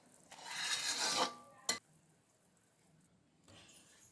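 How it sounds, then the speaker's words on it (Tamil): Chana dal laddu powder being stirred into hot sugar syrup in a pan, a loud scraping, rasping swirl followed by a sharp knock of the spoon, then quieter scraping near the end. "இப்போ பாருங்கள், அந்த லட்டு தூளை சேர்த்துட்டேன். இப்போ நல்லா கிளறணும்."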